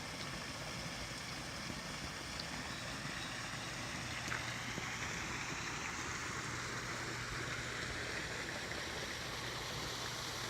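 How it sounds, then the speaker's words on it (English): Steady rushing of water spilling over a small creek waterfall on the North Country Trail in Michigan, continuous broadband wash with no voices, fairly close and constant throughout. "somebody has taken a natural creek and made it into a little waterfall on their property"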